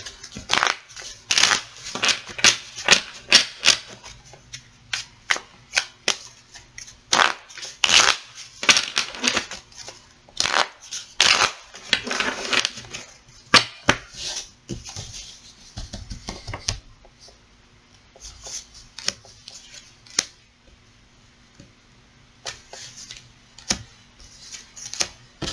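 Close, crisp riffles and slaps as a brand-new tarot deck is shuffled over and over, the bursts thinning out and going quiet near the end.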